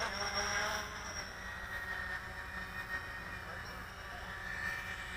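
A Dynam Grand Cruiser RC airplane making a touch and go, its motor a steady high whine that rises and falls slightly as it passes, moderately distant and continuous with no talk.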